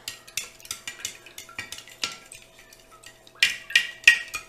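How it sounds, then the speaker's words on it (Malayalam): A spoon stirs gooseberry wine juice in a container, making irregular clinks and knocks against the vessel with short gaps between them and a louder cluster of strikes at the end. "അപ്പം ദിവസം നമ്മൾ ഇതുപോലെ ഒന്ന് നന്നായിട്ട് ഒന്ന് ഇളക്കി കൊടുക്കുക"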